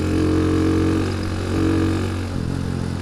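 A Rusi Gamma200 motorcycle engine revs loudly and steadily at high pitch, dipping slightly mid-way and rising again, with no voices over it.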